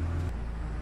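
A car in the video game Endless Suburbia gives off a steady, low engine rumble, slightly deeper at first, with no voices over it.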